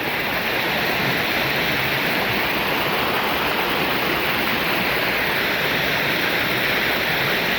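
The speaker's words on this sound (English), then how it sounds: "This is just one of the waterfalls." A forest waterfall roars steadily, a dense, continuous rush of falling water that stays loud and even throughout with no voices.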